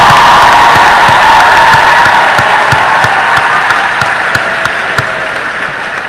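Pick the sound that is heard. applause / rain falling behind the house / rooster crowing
applause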